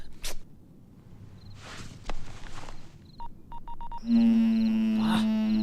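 A telephone keypad beeps through a quick run of short dialing tones, then a steady ring tone follows, all fairly quiet against a faint room background.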